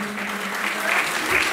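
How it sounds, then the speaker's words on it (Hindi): An audience claps in applause to welcome a guest onto the stage at a night-long devotional bhajan jagrata, a dense, steady burst of many hands that swells slightly near the end. "हामी जोरदार तालीले मञ्चमा पाउन गइरहेको हाम्रा श्री रमेशको साथी श्री सातकले"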